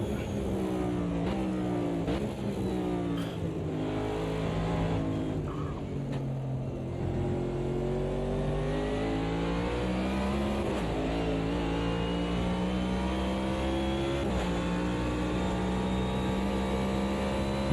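A race car engine in the sim racing game Automobilista 2 drones loud and close, its pitch rising and falling through continuous acceleration and lifts, with short dips for gear changes and no talking.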